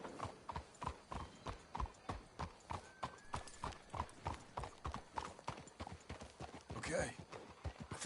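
Horse hooves clip-clop in a steady, rhythmic trot in a video game, several horses close by on hard ground, with a brief whinny late on and low game dialogue under the hoofbeats.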